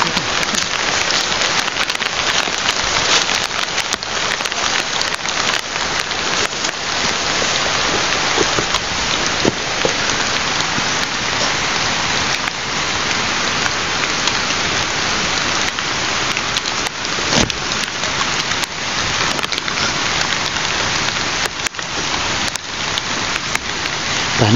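Heavy rain in a video game, a loud continuous hiss of downpour on surfaces with scattered sharper drop hits throughout, steady and close with no talk.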